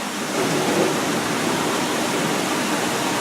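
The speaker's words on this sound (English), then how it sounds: "All we have to do to test the shower is to pull this emergency shower lever here." Emergency shower released by a pull lever, pouring a loud, steady broadband rush of water close by, uniform from start to finish with no voices.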